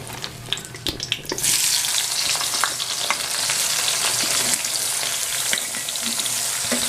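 Sliced onions hit hot oil in a pan alongside bay leaves, dried chillies, cardamom and cinnamon, starting with a few clinks then bursting into a loud, steady, close sizzle that fills the rest, no talk.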